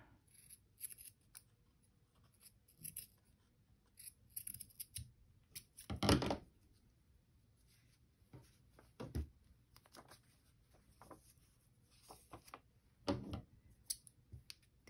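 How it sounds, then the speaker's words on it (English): Several short snips of scissors cutting paper, scattered across the clip with a few louder crisp cuts and quieter rustling between them. "These scissors do not cut well."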